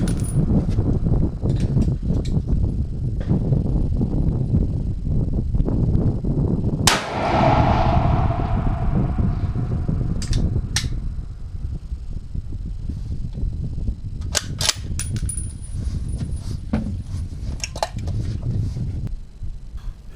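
A Ruger Precision Rifle fires a single Hornady 140-grain A-MAX round outdoors, one sharp, loud crack with a short echoing tail midway, set against steady wind noise and a few faint clicks.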